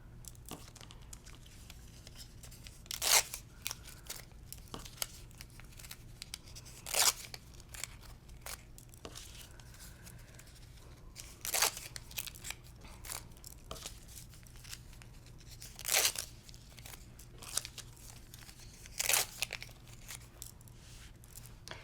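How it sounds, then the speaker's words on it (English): Paper backing being torn off quilt half-square triangles, a series of short, crisp ripping bursts spaced a few seconds apart with soft rustling in between, close and alone. "I'm just going to pull all the paper off first, then we're going to iron."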